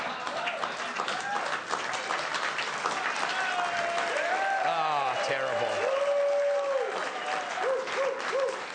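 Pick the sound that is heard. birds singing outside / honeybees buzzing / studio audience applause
studio audience applause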